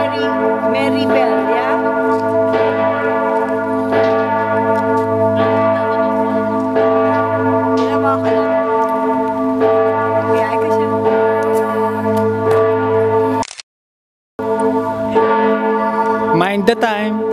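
A church bell rings repeatedly in a public square, loud, rich and resonant, with overlapping tolls and sustained hum filling the air, broken by a brief silent cut.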